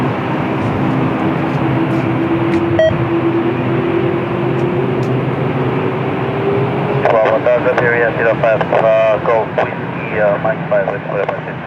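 An Airbus A330-200 airliner lines up at Lisbon Airport with a steady distant jet drone and a slowly rising whine. Someone talks over it in the second half.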